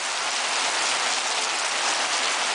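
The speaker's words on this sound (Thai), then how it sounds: "ฝนตกก็ถือว่าดี" Steady rain falls alone at close range with a dense, even hiss, uninterrupted throughout, during an outdoor ceremony at a house in rural Thailand.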